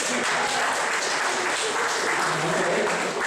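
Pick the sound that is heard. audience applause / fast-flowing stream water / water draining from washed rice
audience applause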